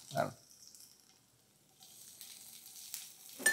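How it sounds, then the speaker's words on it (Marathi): Garlic drops into a hot pan for dal khichdi and sizzles in short bursts, quiet between them, with a final crackle at the end. No clear speech. "हा आणि मी पहिले हे लसूण घालतो."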